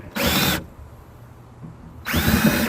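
A power drill bores holes through EVA foam flooring on a set of hatches. Two loud, close whirring bursts are separated by a short pause, with no voices.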